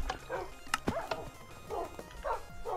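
Dog barks and yips from the video game Minecraft, several short sharp barks in quick succession, fairly loud and close with a few whimpering tones between them.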